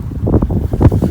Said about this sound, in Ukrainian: Холодно, вітер дує